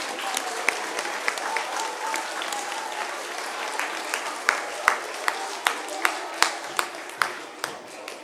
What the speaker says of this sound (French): Et je pense qu'on peut les applaudir